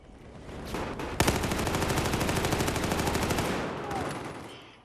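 A rapid burst of automatic gunfire in the video game Battlefield 4, a steady rattling stream of shots lasting a couple of seconds, followed by a quieter stretch of background noise.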